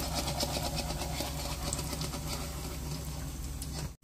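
Peanuts deep-fry in hot oil in a ladle for Diwali mixture snacks, a steady, fairly quiet fizzing crackle with dense bubbling that carries on evenly before stopping abruptly.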